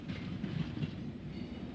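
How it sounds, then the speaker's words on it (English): The Brighton Belle, a Southern Railway express, runs through Weaversfield station in British Railways days, a steady, loud rumble of carriages rolling past for the whole span with faint clickety-clack from the wheels. "Vying with the Golden Arrow for the title of the Southern's best-known train was the Brighton Belle, seen here passing through Weaversfield in BR days."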